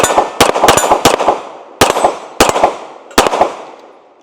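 Sig P320 SXG pistol fired outdoors, sharp loud close gunshots in quick bursts, several rapid pairs and singles with short gaps, each followed by a brief echoing decay.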